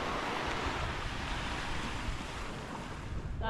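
Waves wash onto a white-sand beach reachable only by boat on Langkawi, Malaysia, making a continuous soft surf hiss mixed with wind buffeting the microphone.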